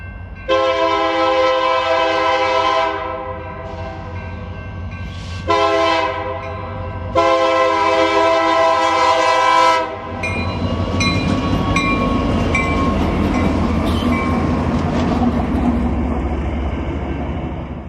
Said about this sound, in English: Like many of the trains we've seen today, Q045 is powered by Union Pacific engines.